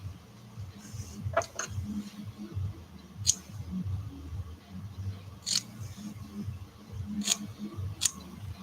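Scissors make short, crisp snips, trimming fur on a handmade gila monster model. The snips come in scattered, separate bursts against faint room noise and light handling sounds.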